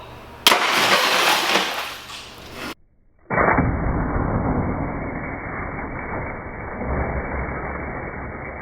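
A Tenpoint crossbow bolt slams into a car door window, which bursts with a sudden loud crash of shattering glass, then a brief pause and a sustained rushing, crackling noise.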